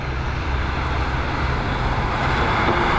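An ATR 72-600 turboprop airliner climbs away from Dublin Airport, its engine noise a steady, broad, loud roar that holds constant over the moment with no voices heard.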